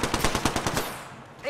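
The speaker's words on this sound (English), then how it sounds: "floaters shooting at me" Rapid automatic gunfire from the Apex Legends video game, a loud burst of evenly spaced shots that stops abruptly, followed by a short electronic tone.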